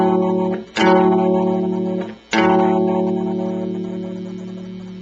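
Electric guitar plays a Chicago blues turnaround pattern on open A: a chord rings out, then two sharp new strums at about 0.8 and 2.3 seconds that sustain and slowly fade, played alone.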